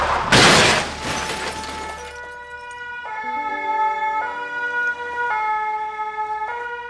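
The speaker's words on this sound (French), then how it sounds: "tu entendras les joyeux pimpons de la petite sirène à chaque fois qu'il y a un incendie" A small fire engine siren plays a two-tone pin-pon melody, loud and close, with steady held tones stepping between pitches after a brief burst of crashing noise at the start; no one speaks.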